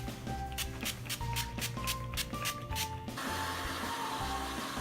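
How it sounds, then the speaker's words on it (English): Purify Plus Light clenditioner sprayed onto a dog's coat from a trigger bottle: about nine quick, evenly spaced squirts, close and crisp, followed by a steadier wash of hiss. "I'm going to spray our Purify Plus Light"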